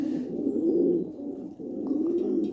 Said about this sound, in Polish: Tam samce gruchają.